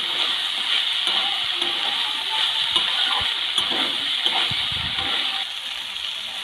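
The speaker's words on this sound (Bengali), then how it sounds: "এবারে ছোটো বাটির এক বাটি জল দিয়ে দেবো" Water is poured into a pan of cooking cauliflower and potato, a steady close gushing splash with sizzling over the full length and no talk.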